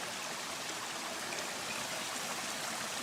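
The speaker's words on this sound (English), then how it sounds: "wow, this is a nice stream." A stream on the Appalachian Trail rushes steadily with close, even hiss and burble, flowing water alone throughout.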